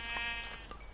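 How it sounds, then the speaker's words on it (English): A sheep in a Minecraft-style block game gives a short bleat, close and fairly loud, set against a steady buzzing game background. "And there's my sheep."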